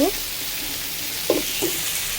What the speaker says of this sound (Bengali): আমি আর কিছুক্ষণ ভাজা ভাজা করে নেব